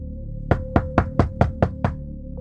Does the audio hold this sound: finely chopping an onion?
no